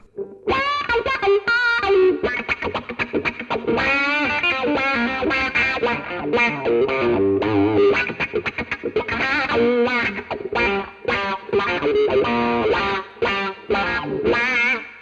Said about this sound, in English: You hear that wah wah without the